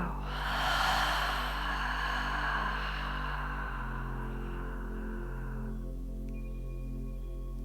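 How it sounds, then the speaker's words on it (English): A deep inhale followed by a long, slow exhale during a reclined yoga pose: a soft, breathy rush that lasts several seconds, close and steady, over a low, sustained musical drone. "take a nice big deep breath in. Exhale, release, let go."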